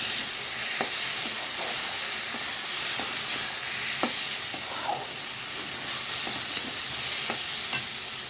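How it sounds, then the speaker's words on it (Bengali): Spice paste with turmeric powder fries in a pan while being stirred, a steady close sizzle broken by regular scrapes and taps of the spoon. "আমাদের মশলাটা ভাজা হয়ে গেছে"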